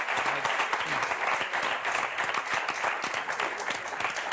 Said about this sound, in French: on va s'arrêter là et vous applaudir très très fort